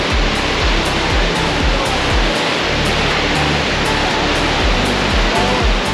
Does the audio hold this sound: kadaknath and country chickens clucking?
no